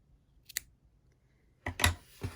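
Scissors snip through crochet yarn while a ribbed beanie is being finished. There are a few crisp, close cuts: one short snip, a pause, then a quick double snip in a quiet room.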